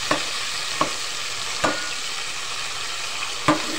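Tomatoes fry in a masala for a mutton liver and lung curry, a steady soft sizzle broken by four sharp scrapes of a spoon stirring the pan, close and clear with no talking.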